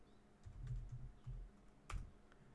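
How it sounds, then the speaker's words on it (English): Fingers tap a computer keyboard in a quiet room, a short irregular run of soft, close keystrokes with one sharper click near the end, no voices. "Right, so we're typing our password,"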